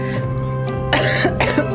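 A person coughs several times in harsh, throaty bursts, close and loud, with some breathy throat clearing between.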